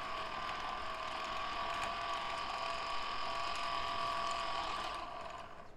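The sprocket and tracks of a 1/6 scale Armortek Hetzer Jagdpanzer 38 tank model run with a continuous, close mechanical whir and fine ratcheting gear clatter that stays even before tapering off at the end.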